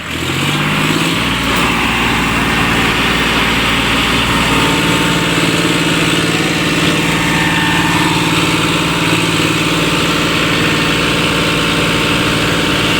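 Two farm tractors bogged down in heavy mud after rain labour at full power, producing a loud, continuous engine roar with a constant vibrating rumble from start to finish.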